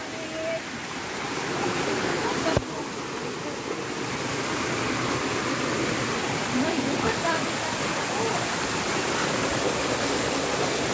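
Clear mountain water flowing near a tunnel crossing toward the sea, a steady loud rushing wash with a sharp knock partway through and a voice talking over it.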